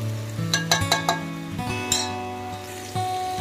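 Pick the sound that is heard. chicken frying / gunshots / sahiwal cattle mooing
chicken frying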